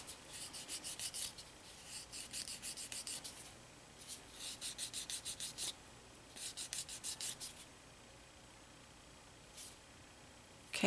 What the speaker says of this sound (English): Now I'm trying to buff that little nick that I had there